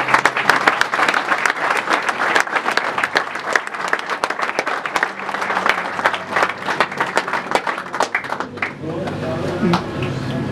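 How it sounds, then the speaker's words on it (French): Congregation at a church service applauding and cheering loudly and steadily, a dense wash of clapping with voices mixed in, easing off near the end as speech takes over. "Quelqu'un peut acclamer ici."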